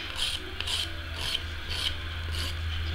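Acrylic nails being filed with a 100/180 grit nail file, a soft rhythmic rasping in quick back-and-forth strokes, close and fairly quiet with no talking.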